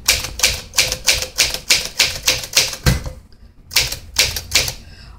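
Keys of a 1957 Smith Corona Silent Super portable manual typewriter, stiff from storage, struck in a steady run of loud, close clacks with a short pause, then a few more strikes; no voices.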